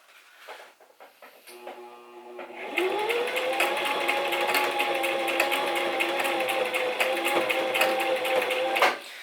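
A sewing machine stitches a fabric mask with fast, loud, even mechanical clatter that runs steadily for several seconds, after a few softer hand sounds and a short start-up.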